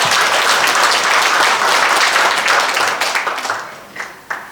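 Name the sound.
audience applause at anniversary ceremony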